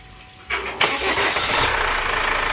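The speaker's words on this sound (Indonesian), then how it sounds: "sekarang coba kita starter mobilnya" Chevrolet Captiva FL diesel engine starting after injector cleaning: a short starter crank, then the engine catches with a loud burst and settles into a steady, close, rough diesel idle.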